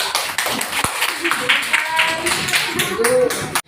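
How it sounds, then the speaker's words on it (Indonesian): Many people clapping together in a classroom, a dense burst of applause with scattered voices and a few louder claps near the end. "Mari kita beri tepuk tangan."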